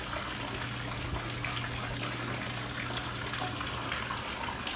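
A courtyard fountain splashes and gushes in a constant, dense wash of water noise, close and steady throughout with no talking.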